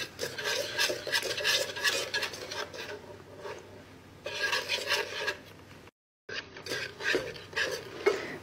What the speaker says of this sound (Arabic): بحط نص الكميه، مو كلها، نص هذه الكميه، وأحرك مع بعض بس لين تمتزج